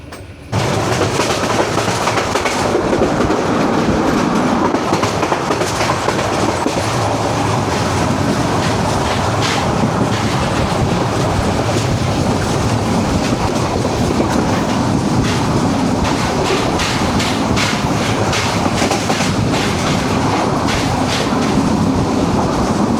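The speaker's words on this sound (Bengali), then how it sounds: "আমাদের পর্যটক এক্সপ্রেস এখন তাণ্ডব চালাচ্ছে, তার গতি প্রায় ৮০-এর উপরে।" Parjatak Express passenger train crossing the Kalurghat bridge at around 80 km/h: a loud, continuous roar of rolling wheels with rapid rhythmic clickety-clack, heard close up from on board.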